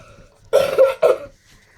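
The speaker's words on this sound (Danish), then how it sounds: "Og jeg skal hoste." Two short, forceful coughs close by, one right after the other, during a casual beer tasting among friends.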